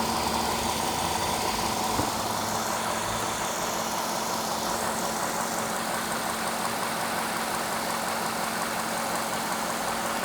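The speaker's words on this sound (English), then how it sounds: "I hear something loose inside here. Something's rattling." A Cadillac engine idles with a misfire on all cylinders and something loose rattling inside the intake, producing a steady, loud mechanical hum with faint ticking and clatter throughout and no talking.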